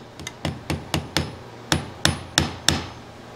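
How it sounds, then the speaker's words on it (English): Nine sharp hammer taps drive brads into a wooden shooting board for a block plane, evenly spaced strikes with brief ringing decays, close and fairly quiet, no talk. "So once I put the glue on, I'm going to put a couple of brads."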